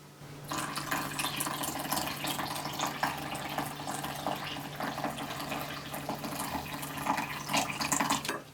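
Hot water poured into chocolate cake batter, a steady, close splashing stream running for several seconds at an even level, with no one talking.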